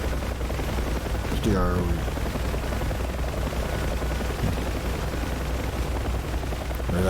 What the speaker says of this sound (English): Am I being shot at or are you guys shooting?